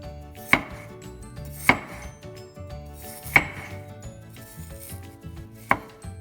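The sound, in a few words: knife chopping potato into smaller pieces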